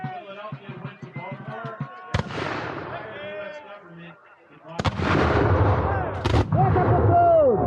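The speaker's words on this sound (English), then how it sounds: "Fire by platoon!" Two sharp, loud musket volleys crack out at a battle reenactment, one near the middle and a second, heavier burst later, each rolling into a booming tail, with shouted commands between and around them.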